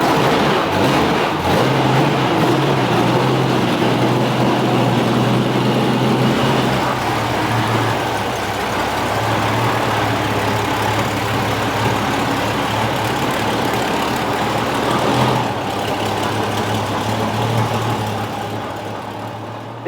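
The Beast, a classic car fitted with a Meteor engine, runs at a steady idle: a deep, continuous rumble with a constant low throb throughout and no voices.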